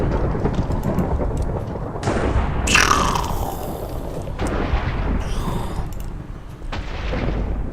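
A lightning strike summoned in the Minecraft video game, a loud thunderous crack near the middle followed by rolling rumble over a steady noisy background, with no talk.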